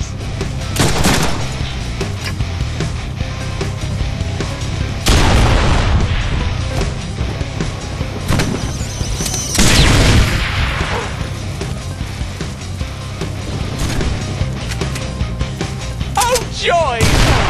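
Heavy gunfire and booming blasts in the Deadpool video game, sustained bursts of shots with several loud impacts across the stretch, under game voices and music.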